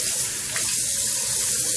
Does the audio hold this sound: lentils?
no